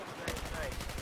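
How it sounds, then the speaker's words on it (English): Gunfire from the Battlefield 4 video game: a steady, rapid burst of automatic shots at moderate loudness with a busy game soundscape behind it and no voices. "Sniping from above."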